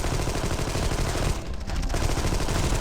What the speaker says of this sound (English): Our machine gun gets solid use right until the end